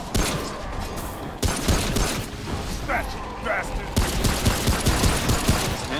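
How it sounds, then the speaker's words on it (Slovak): Video-game gunfire comes in rapid bursts and volleys with mechanical clatter, loud and close, while players talk over it. "ja iba počujem, jak strelaš"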